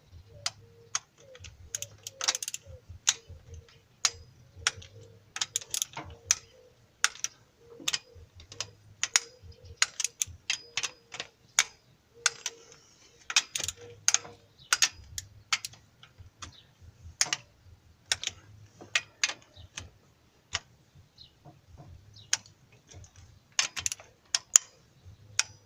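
A torque wrench set to 360 inch-pounds clicks while tightening cylinder head bolts on a 2005 Nissan Sentra 2.5L. Many sharp, closely spaced clicks sound up close and fairly loud, with no talk.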